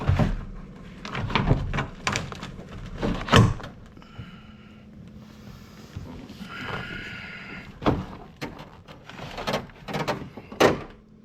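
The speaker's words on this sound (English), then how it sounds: "let's hook the door back on" Door of a 1981 Corvette being fitted back onto the car, with a series of sharp metallic clunks and knocks at irregular intervals between brief scraping and rattling, heard up close without speech.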